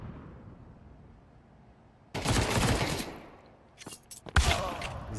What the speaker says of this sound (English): Can't escape the bullets.